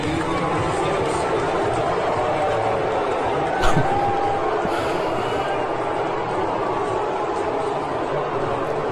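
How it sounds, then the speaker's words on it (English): A large stadium crowd at a World Series game boos President Trump, forming a dense, sustained roar of many voices with a few sharper shouts standing out partway through. "it sounds like a lot of booing"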